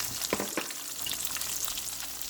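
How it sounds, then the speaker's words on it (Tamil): Green chili and curry leaves fry in a pan with a soft, steady sizzle and a few crackling pops near the start, quiet and close, with no talking. "கருவேப்பமிலை எல்லாம் நல்லா வதங்கட்டும்"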